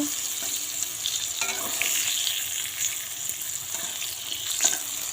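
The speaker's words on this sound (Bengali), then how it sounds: "এই দেখো বেগুন ভাজা বসিয়ে দিলাম" Eggplant slices fry in oil as a soft, steady hiss with faint crackles and a small clink or two, close but quiet, with no talking.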